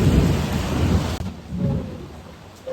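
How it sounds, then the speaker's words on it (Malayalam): Heavy rain pours steadily, close and loud, while low thunder rolls beneath it, strongest in the first second before easing into a softer downpour with a faint rumble. "മഴ"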